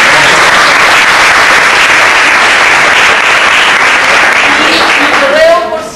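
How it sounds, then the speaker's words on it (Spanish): Audience applause at a library talk, dense sustained clapping at close range for several seconds before it cuts off abruptly. "Un aplauso."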